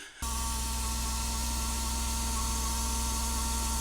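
A BMW E36 running with a suspected seizing alternator gives off a steady, loud mechanical whine and grinding drone, continuous and unbroken after a brief quiet start, with no talking.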